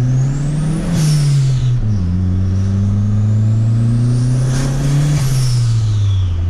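Opel Kadett GL Turbo with a forged engine making about 300 hp, a loud, deep exhaust rumble with rising and falling revs and a turbo whistle, close by with no talk.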